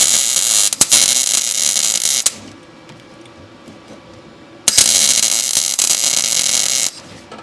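Arc welding on a classic Jeep during an awkward off-angle weld: a loud, harsh buzzing crackle for about two seconds, a pause of quiet, then another long welding burst.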